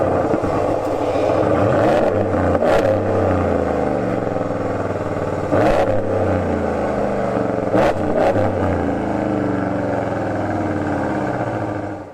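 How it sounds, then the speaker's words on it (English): A 2022 Ram 1500 G/T with its HEMI V8 and aftermarket exhaust revving hard, several loud, deep blips rising and falling over a steady rumbling idle, heard close and alone. "take a listen to this truck because this exhaust makes the HEMI sound pretty tough."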